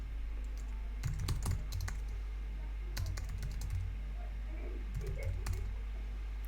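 Computer keyboard keys pressed in short bursts of clicky taps, a few quick groups of keystrokes spread across the clip over a steady low background hum, no talk.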